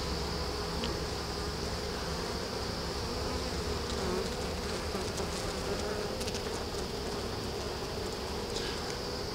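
Honeybees in an open hive buzz continuously in a dense, droning hum, with individual bees flying close past the listener now and then.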